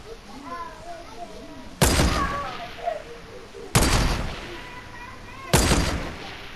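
Three sharp gunshots from a video game weapon fired at a supply drop, spaced about two seconds apart, each a loud crack with a short decaying tail over faint background game sound and soft voices.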